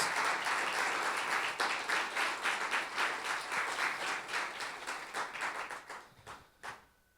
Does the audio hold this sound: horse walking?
no